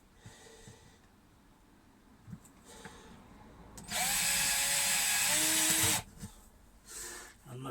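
Power drill boring into a delaminated camper floor, a loud close whine lasting about two seconds amid quiet handling noises and soft breathing.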